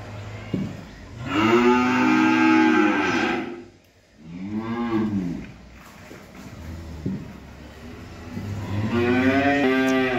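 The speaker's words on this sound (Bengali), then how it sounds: "এই হলো আমার একটা 6 নাম্বার একটা ফ্রিজিয়ান বকনা বাছুর" A Friesian heifer calf moos loudly and close by, three long drawn-out calls separated by short pauses, with no talking.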